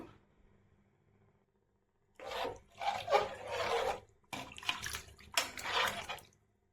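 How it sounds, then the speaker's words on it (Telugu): Water poured from glasses into a pot while cooking chicken biryani, heard as several loud splashing pours with brief pauses between them, close by and with no talking. "5 గ్లాసులు నీళ్ళు పోసినాను."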